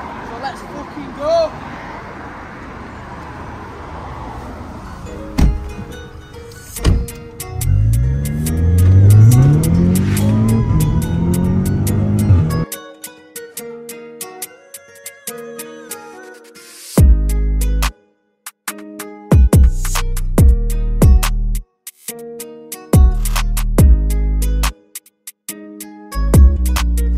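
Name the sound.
drag racing cars at Race Wars event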